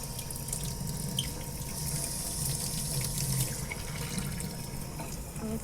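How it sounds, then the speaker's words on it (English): Tap water runs steadily onto a piece of etched stainless steel in a sink, a continuous close splash and hiss with no voices. "So I am rinsing this off."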